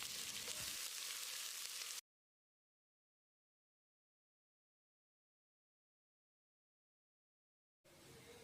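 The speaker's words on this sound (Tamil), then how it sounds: "வெங்காயத்தை போட்டு நல்லா பொன்னிறமாக வதக்கிடலாம்." Two large sliced onions fry in a pan for mushroom biryani, sautéed until golden, giving a steady broadband sizzle that cuts out into a long silence and then returns near the end.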